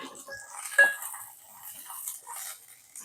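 Coconut pieces go into a pan of roasting peanuts, giving a few close metallic clinks and scrapes of utensil on pan, with faint background noise.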